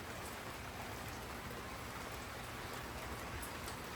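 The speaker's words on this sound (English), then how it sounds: "it won't stop raining" Steady rain falls without letup outdoors near a boat, a dense even hiss with no voices or other sounds.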